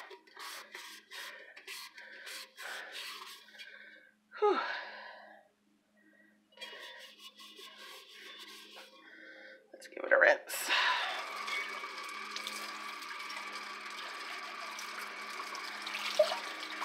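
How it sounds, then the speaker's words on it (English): A stainless steel tumbler is scrubbed on the inside by hand, giving an uneven rubbing and scraping with brief pauses. Water runs over it toward the end, and a person exhales and speaks briefly. "feel free to fast forward this if you don't want to watch me stand here and scrub the whole time"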